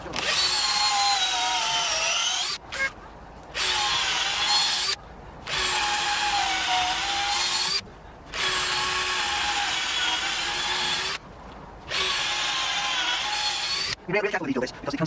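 A power drill fitted with a 5mm bit bores holes into wooden posts for a koi pond build, running in repeated bursts of two to three seconds with short pauses between, close and loud, ending with handling clatter.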